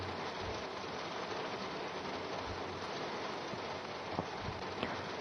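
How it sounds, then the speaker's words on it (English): Rain falls in a Train Sim World 3 session, a steady, soft wash of patter over a high-speed train in the railway simulator, continuous and fairly faint, with a couple of small knocks near the end. "Fucking hell, it's raining."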